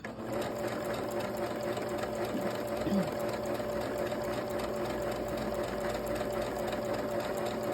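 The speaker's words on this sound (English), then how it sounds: "we're going to sew until we get to the end of our piece of fabric" A sewing machine stitches fabric under steady foot-pedal control, giving a continuous fast mechanical whir for the whole stretch, close and fairly quiet, with a voice talking over it.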